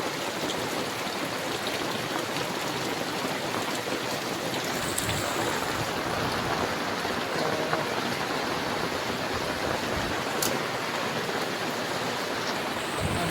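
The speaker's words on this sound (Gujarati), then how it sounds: "આપણે વરસાદ ચાલુ થઈ ગયો છે જો" Heavy monsoon rain falls in a dense, unbroken roar close by, loud and even from start to finish with no voices.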